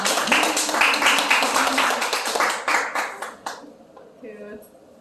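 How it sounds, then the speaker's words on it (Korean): Audience applause greets a tea teacher introduced on stage, a dense burst of many hands clapping close and loud for about four seconds before thinning out, with a faint voice and ringing tone after. "큰 박수 부탁드리겠습니다"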